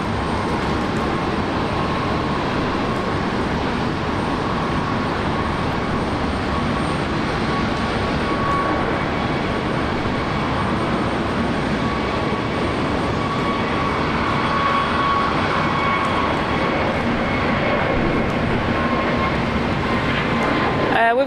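Airplane engines at Brisbane Airport, a continuous broad roar with a faint steady whine, heard at moderate distance with no break over some twenty seconds.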